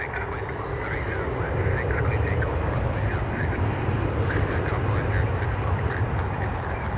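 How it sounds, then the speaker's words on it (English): American Airlines Airbus A319 bound for Charlotte at Toronto airport, a steady broadband jet engine roar that holds loud and constant throughout, with people talking faintly underneath. "This is American Airlines going to Charlotte, and it's an Airbus 319."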